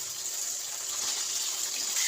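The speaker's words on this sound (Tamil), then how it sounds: "அதையும் அதில் எண்ணெயில் போட்டுருவோம்." Half a kilo of peeled, washed potatoes sizzle in hot oil in a home kitchen, a loud, steady hissing crackle that runs continuously and brightens slightly toward the end, with no talk.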